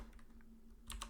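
A short burst of computer keyboard typing, several quick close key clicks tapped out in about a second while entering a command, with no voice.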